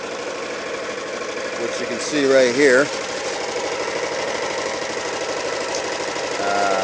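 A 6.5 horsepower engine idles steadily as it drives a 2500 watt inverter generator powering a camper, giving a constant close mechanical hum with someone talking over it.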